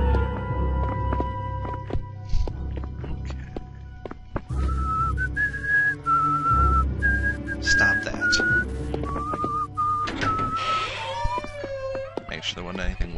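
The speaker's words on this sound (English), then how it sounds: "Whistling in there." Whistling in the Nosferatu video game: a series of clear, sustained tonal notes starting after a few seconds and continuing through the clip, over footsteps and other game sounds, with a person talking at times.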